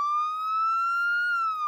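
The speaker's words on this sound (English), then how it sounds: "Emergency vehicles such as fire engines, ambulances and police cars all have a siren that sounds like this." An emergency vehicle siren wails alone in one long, steady rising-and-falling tone, clear and fairly loud, with no other sounds around it.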